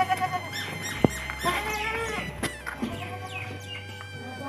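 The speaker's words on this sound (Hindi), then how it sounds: "अब एक एक बकरी को आहिस्ता आहिस्ता खोलूँगी" Goats bleat in a rural Punjab, Pakistan village on a rainy morning, with chickens clucking nearby and a steady low hum underneath, several overlapping animal calls close to the listener.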